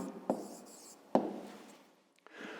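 A pen writes an answer on paper in a quiet room: a few soft scratching strokes with sharp taps as the tip meets the page, close and faint, no voices.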